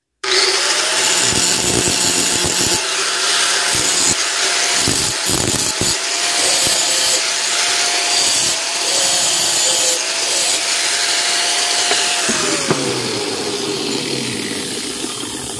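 Power tool disc grinding a steel knife blade with a guard, a steady harsh whine and rasp running continuously and loudly, with brief dips and changes in pitch as the disc works the edges.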